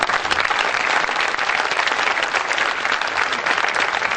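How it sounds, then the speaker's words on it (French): Sustained, dense applause from a jazz festival audience at Jazz à Ouaga 2012, a steady wash of clapping that holds evenly loud and close throughout without a break. "Je crois qu'on va applaudir encore,"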